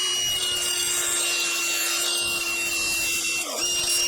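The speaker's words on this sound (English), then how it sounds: "let's go ahead and just try to grind these down a little bit" Brake pads for a 2005 Toyota Corolla ground down by hand, a continuous rough rasping scrape with a steady tonal hum underneath.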